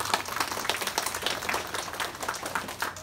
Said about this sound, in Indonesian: Alhamdulillah, tepuk tangan.